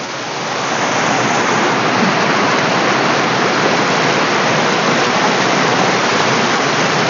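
Fast-flowing river water rushes near St Clair waterfall, a steady, loud, dense roar that holds constant throughout with no voices.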